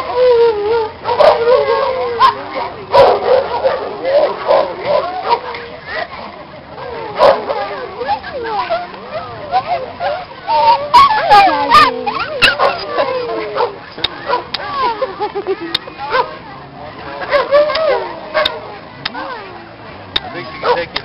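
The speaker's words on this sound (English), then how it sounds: "Is she a good dog?" A large dog yips, whimpers and gives short excited barks and howl-like whines, near and loud, mixed with people talking warmly over it throughout.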